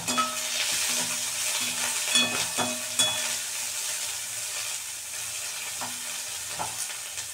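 Onion and green chilli sizzle steadily in a pan after curry leaves, a continuous frying hiss with occasional scraping stirs, close and moderately loud with no talking.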